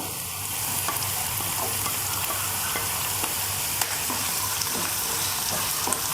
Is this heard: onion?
yes